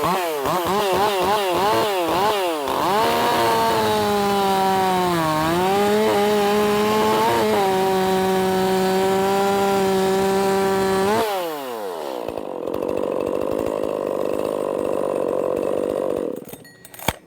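Ported Echo CS 4310SX chainsaw snarling through small branches, engine pitch rising and sagging under load for about eleven seconds, then dropping to a rough idle before a sharp click at the end; close and loud, no talking.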